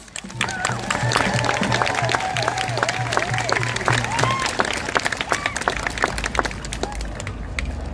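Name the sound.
audience applause at a protest rally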